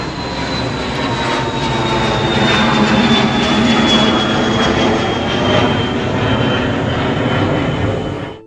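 An airplane passes overhead at a gravesite with a loud, sustained droning engine roar that stays steady for several seconds before cutting off, with no voices.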